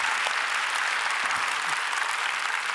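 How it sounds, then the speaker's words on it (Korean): Steady, dense applause from a church congregation honoring graduating missionary training candidates, continuous clapping filling the room throughout without any voices. "졸업하시는 우리 귀한 후보생들을 위해서 박수로 행하겠습니다."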